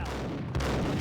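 Gunfire in the Max Payne shooter on PS4, dense and rumbling with overlapping shots and booms, a muffled, continuous barrage with a slight swell midway.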